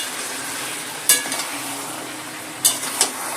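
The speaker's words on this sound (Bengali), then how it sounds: "টমেটোটা দেওয়ার পর মাংসটা ভালো করে কষিয়ে নেব।" Goat mutton fries with chopped tomato and sour yogurt in a pan over a high gas flame, a steady dense sizzle with three sharp metallic clinks of a utensil against the pan.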